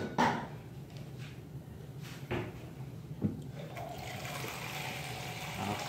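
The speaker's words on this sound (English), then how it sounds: "So what we're gonna do now is just add some water." Water poured over a tray of ribs before cooking, a steady splashing pour that builds from about four seconds on after a few knocks and clatters.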